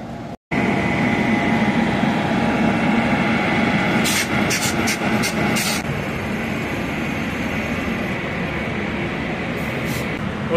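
WAP7 electric locomotive from the Tughlakabad loco shed hauling the Pondicherry–New Delhi Express, a steady loud rail rumble with airy hum and brief clanks, heard close and continuous.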